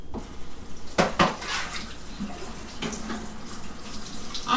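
Tap water running into a sink while something is rinsed out, with dishes and pans clattering and clinking against the basin in several knocks, close and fairly quiet.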